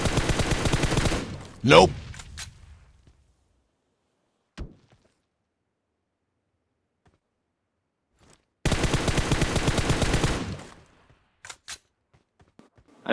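PUBG Mobile gunfight, two loud bursts of rapid automatic fire separated by quiet stretches with a few isolated single shots and thuds.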